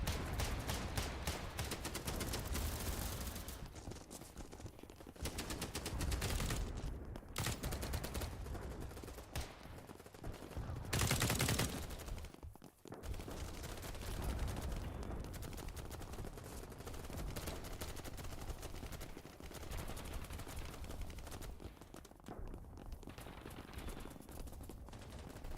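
Loud, dense bursts of unsuppressed video game gunfire rattle almost nonstop, with rapid volleys and brief gaps, and no voices over them.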